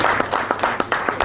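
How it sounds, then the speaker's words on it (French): Applause at a public ceremony in Ouagadougou, with distinct claps repeating in a steady rhythm, close and fairly loud. "Une minute d'applaudissements."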